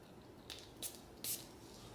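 A fragrance spray bottle gives three short, close hissing bursts, each brief and separated by pauses, with no talking.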